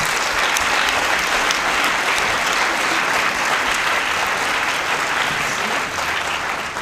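Audience in a theatre at the opening evening of a comics festival applauding, dense loud continuous clapping that holds steady throughout with faint crowd murmur.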